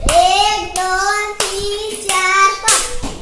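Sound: child clapping hands five times

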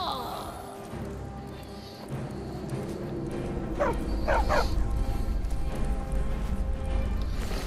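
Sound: dog barking and whimpering in a video game

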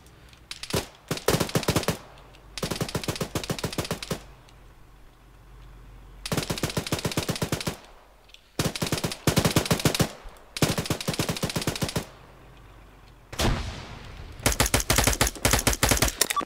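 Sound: gunfire shooting an enemy machine gunner in the video game Arma 3

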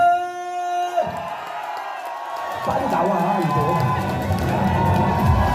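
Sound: crowd clapping and cheering

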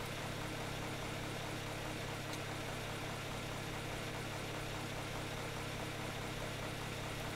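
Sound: grinder machine running in the video game ARK Genesis

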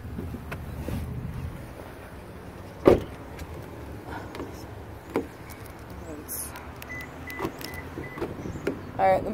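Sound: power sliding rear window of 2014 Toyota Tundra

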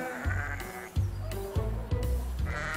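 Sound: sheep bleating on a farm

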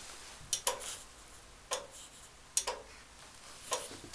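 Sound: ticking of a Mamillas electro-mechanical church clock

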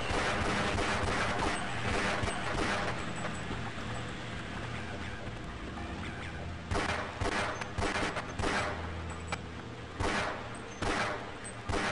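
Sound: gunfire from a video game, Half-Life

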